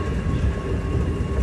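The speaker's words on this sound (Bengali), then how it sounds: "ট্রেন কিন্তু চলে এসছে অলরেডি" A Dubai metro train pulling into the station, a steady loud low rumble of rolling wheels and carriage noise with no talking.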